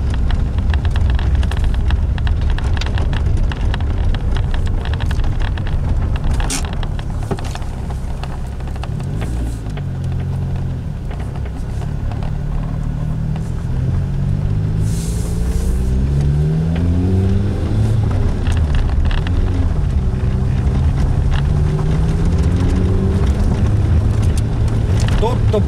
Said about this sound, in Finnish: Tutun turbon ujelluksen kuulen